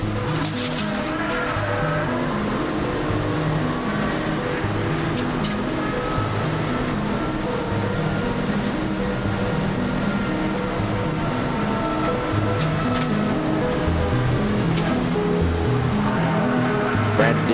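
Race cars including Mazda Miatas run on a circuit during a MARRS club weekend race, their engines droning continuously with shifting pitch and sweeping passes throughout, loud and sustained with only faint talk beneath.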